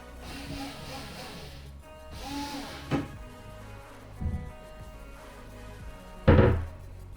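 Reattached wooden cupboard door swinging shut on its hinges, a few soft thunks and one firmer closing knock near the end, with quiet talk in the room.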